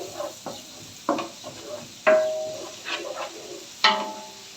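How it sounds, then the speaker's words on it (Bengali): Chicken fried rice being fried and stirred in a pan over high heat: soft sizzling broken by a handful of sharp scraping and clinking stirring strokes, close by, with no talk. "এবার আমি একটু একটু ভাজা ভাজা করে নিচ্ছি"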